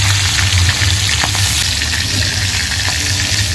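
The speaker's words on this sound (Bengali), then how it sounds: "এখন পমফ্রেট মাছটা ভাজা চলছে।" Pomfret fish frying in hot oil gives a loud, steady, dense sizzle that holds without a break, with no voices over it.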